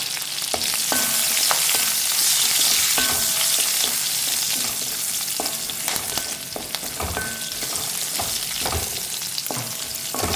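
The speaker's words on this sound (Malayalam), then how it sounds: "ഇതിനൊന്ന് ഇളക്കി കൊടുക്കാം" Garlic and split green chillies sizzle and fry in a pan, a steady dense crackle running throughout, with repeated scraping strokes of a spoon as the mixture is stirred.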